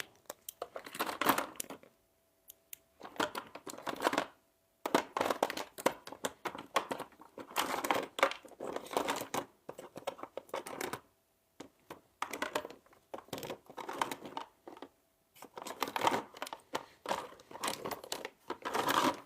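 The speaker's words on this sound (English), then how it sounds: "This sound is me raking around a bunch of different paint," Plastic and metal paint tubes rattle and clatter in repeated bursts of rummaging, with short pauses between handfuls, close and fairly quiet.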